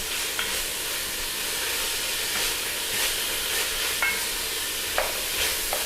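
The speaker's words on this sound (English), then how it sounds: "Right now I'm just doing the carrots with the onion." Carrots and onion sautéing in a pot for broccoli cheddar soup, a steady broadband sizzle with a few light stirring knocks, close and continuous with no talk.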